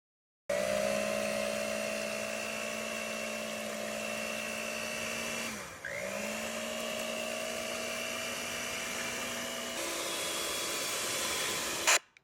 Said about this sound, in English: I suggest mixing up the egg whites into stiff peaks before starting the other mixture.